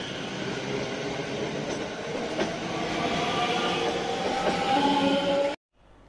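Class 320 and class 318 electric trains pull out of a station near Cumbernauld, a steady rumbling roar with faint clatter and rising whine that holds close and loud before cutting off abruptly.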